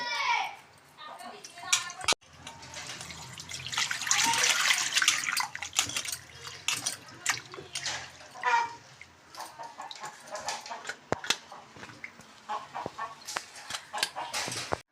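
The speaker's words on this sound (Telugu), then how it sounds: "చేపలు శుభ్రం చేసేసాను ఇప్పుడు కడిగేసుకుందాం రెండు మూడు చుట్లు కడిగేసుకోవాలి" Cleaned sandhuva fish are washed in water with splashing and sloshing as they are rinsed over and over, steady but uneven, while a voice is heard in the background.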